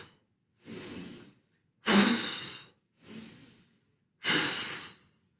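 A child blows out four long, breathy exhales during a yoga breathing exercise, each lasting under a second with short silent pauses between them, close and fairly loud.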